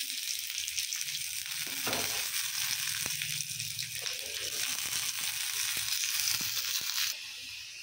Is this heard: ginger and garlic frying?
yes